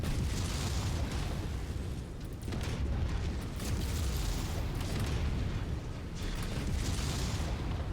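A destroyed mech in MechWarrior 5 sets off dense, rumbling explosions that roll on continuously, swelling in a few waves with no talk over them.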